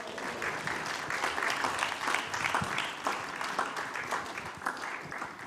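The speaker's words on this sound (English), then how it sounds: "Give him a round of applause" Audience at an ISKCON initiation ceremony at Bhaktivedanta Manor applauds steadily, a dense even patter of many hands clapping throughout, moderately loud and unbroken, with no talk over it.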